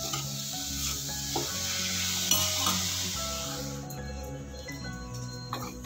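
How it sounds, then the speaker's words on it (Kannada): Fresh coriander leaves are stirred into a hot pan of homegrown chilkarve greens for chutney. Steady close sizzling runs under scraping stirs, and the frying dies down partway through. "ಕೊತ್ತಂಬರಿ ಸೊಪ್ಪನ್ನು ಹಾಕ್ಬಿಟ್ಟು ಸ್ವಲ್ಪ ಆಡಿಸಿ ಈ ಥರ"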